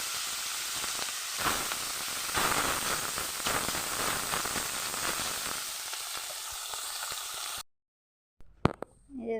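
Fish frying in oil sizzles loudly and crackles continuously for several seconds, then cuts to near silence before a brief clatter near the end.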